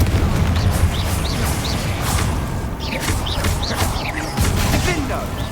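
Spell blasts from the Confringo curse in the video game Hogwarts Legacy, loud dense booming bursts within a continuous battle din, with raised voices heard throughout.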